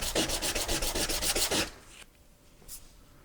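Rapid back-and-forth rasping strokes of hand sanding on a solid silver chess piece, close and fairly loud for about a second and a half, then stopping, followed by quiet handling noise and one faint scrape.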